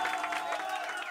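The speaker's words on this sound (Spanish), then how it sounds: "Los aplausos cuando se queda Milagro." Guests at a birthday serenade applaud the birthday girl, a faint, steady patter of clapping with some cheering mixed in, heard from a distance throughout.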